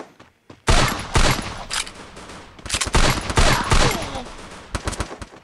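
Gunfire in the Free Fire video game bursts out loud and close after a quiet start, with rapid automatic volleys and several sharp separate shots coming in uneven clusters.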